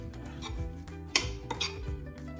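Guacamole is mixed with cilantro in a bowl, with a utensil clinking and scraping against the bowl in a quick, uneven series of close taps and one sharper knock.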